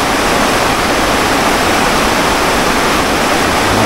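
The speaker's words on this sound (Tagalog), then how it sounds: "Galing yan sa bundok. Yung tubig na yan." Mountain water rushes over rocky ground in a steady, loud, full roar of turbulent flow that stays constant without a break.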